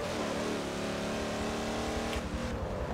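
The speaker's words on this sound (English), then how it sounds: "As that car screeched around that bend, I heard the tyres screech." Engine roar of a car in a racing video game, loud and continuous with a steady revving drone throughout; no clear tyre squeal stands out over the engine.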